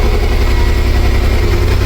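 Ferrari V12 engine in a kit car running steadily at close range, a continuous low mechanical rumble with a slight rise in revs across the short stretch and no voices over it.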